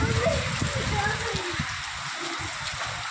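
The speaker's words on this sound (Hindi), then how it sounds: "अब ज़बरदस्त बारिश हो रही है।" Heavy rain patters steadily in the background at Satpuli market, Pauri Garhwal, Uttarakhand, while a voice speaks over it, the downpour continuing after the talking fades.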